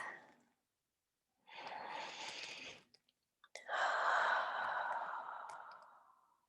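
Slow, deep breathing during a guided meditation: a soft first exhale, then a long inhale and a longer fading exhale, close and alone with no talk.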